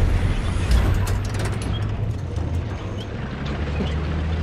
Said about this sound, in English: It's quite fun running in a tank.